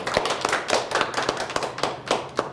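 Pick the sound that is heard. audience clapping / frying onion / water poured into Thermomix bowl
audience clapping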